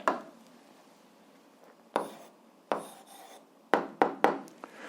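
Handwriting on paper while an algebra answer is written down, quiet scratchy pen strokes in short bursts with pauses between, close and faint, no speech.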